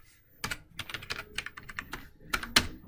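C++ code is typed on a computer keyboard, producing irregular bursts of crisp, close key clicks and clacks in quick runs with short pauses between them.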